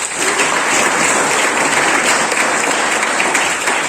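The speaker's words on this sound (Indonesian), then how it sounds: "Maka kita beri tepuk tangan kepada mereka." Audience at a graduation ceremony applauding graduates' parents, a dense, steady roar of clapping from a large crowd, loud and continuous throughout.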